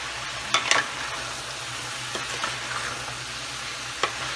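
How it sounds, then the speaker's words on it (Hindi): Mixed vegetables fry and sizzle in a pan on the stove under a steady hiss, broken by a few soft scraping stirs near the start and another near the end. "तीन मिनट हो गए हैं इसको भूनते हुए।"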